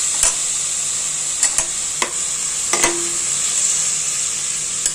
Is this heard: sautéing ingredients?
yes